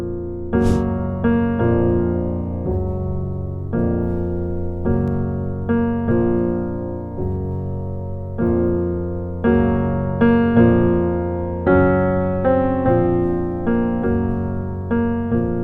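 Slow, solemn funeral march music in the manner of Chopin's Funeral March moves in heavy, evenly spaced chords with a dragging, processional rhythm, played alone without any voices.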